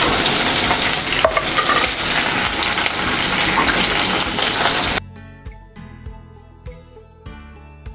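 Green chilies and ginger fry in hot oil, giving a loud, dense sizzle that runs steadily for about five seconds, then drops off abruptly to quiet clinks and light stirring taps.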